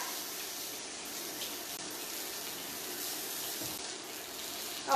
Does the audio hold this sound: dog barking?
no